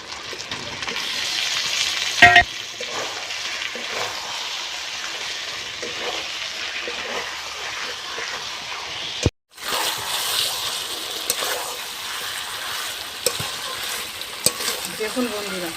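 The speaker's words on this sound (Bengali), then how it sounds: "এবার ভেজে রাখা এঁচোড়টা দিয়ে দেবো।" Pre-fried jackfruit pieces sizzle with chicken in a hot pan, stirred in an even rhythm with scraping strokes, a couple of clanks and a brief dropout midway.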